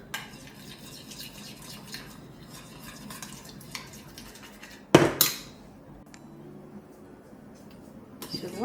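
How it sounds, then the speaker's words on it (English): Melted candle wax being stirred in a pot, with the bottom scraped. A low, steady stirring rasp runs throughout, broken by one sharp metallic knock near the middle and louder scraping at the end. "I'm just gonna keep scraping at the bottom a bit"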